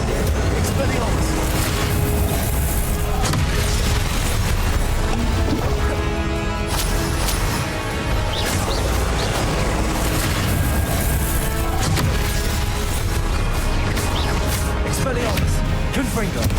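Blasting spells, including Incendio and Confringo, cast during a Hogwarts Legacy fight: loud crashing bursts and booms pile up continuously in a dense, busy battle mix with music and effects.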